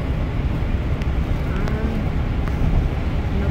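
A truck rolls past on a road, a steady broadband rumble and rush with wind buffeting, heard alone with no talking.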